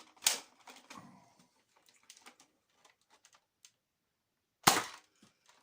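A modded Nerf Slingfire blaster fires a worn foam dart with a sharp snap near the end, echoing a similar snap at the start, while faint clicks and handling noise fill the quiet between.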